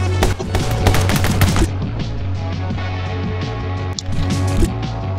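Rapid bursts of gunfire from the video game My Friend Pedro crackle loudly and densely over a steady low hum, with a brief pause before another flurry of shots near the end.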